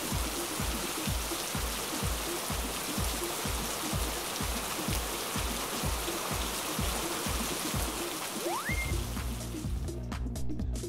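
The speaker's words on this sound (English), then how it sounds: "It's raining heavy. Stay indoors, it's heavy rain." Heavy rain pours down in a dense, steady hiss that stays loud and unbroken throughout, with a regular low rhythmic thumping underneath.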